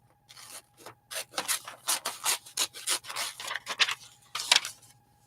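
Scissors fussy-cut around a figure in magazine paper: a near, uneven series of short snips and paper rustles with small pauses between cuts, no talking.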